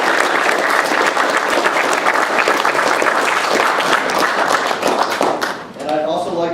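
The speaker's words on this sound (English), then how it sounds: "Let's get a round of applause for our special guest today." A crowd at a ceremony applauds special guests, including an assistant council commissioner, with loud, dense, sustained clapping that fades near the end as a voice begins speaking.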